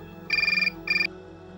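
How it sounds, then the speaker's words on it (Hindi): A telephone ringtone chirps in two short warbling electronic bursts separated by a brief gap, heard clearly in a quiet indoor scene with no talking. "मैंने अभी तो फोन किया था, रिंग जा रही है।"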